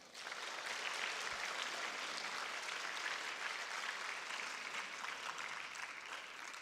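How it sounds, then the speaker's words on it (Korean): A church congregation applauds during a Wednesday worship service, broad and steady clapping from a large room that holds at a constant level throughout with no speech over it. "박수 한번 더 주세요"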